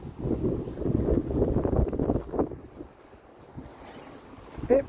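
Breezy wind buffets the microphone outdoors during a stop to look at clover, a steady low rumble with gusts that rise in the first half and ease off later, fairly close and with no talking.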